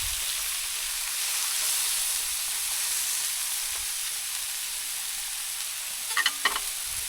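Thin food sizzles on a hot outdoor grill at a national park campsite, a steady close hiss running throughout with a few brief crackles near the end.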